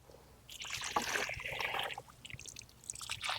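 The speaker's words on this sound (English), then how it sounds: "we'll just pour the rest of our bucket around the soil" Water poured from a bucket onto the soil around a newly planted tree outdoors, a soft splashing trickle that rises after half a second and continues steadily, near and fairly quiet, with no talk.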